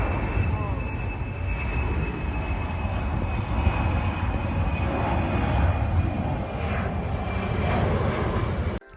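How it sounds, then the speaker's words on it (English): A military C-17 transport jet departs Edinburgh with a loud, sustained engine roar and a steady high whine that continues throughout, recorded from nearby with faint voices beneath. "This is Queen Elizabeth C-17 departure from Edinburgh."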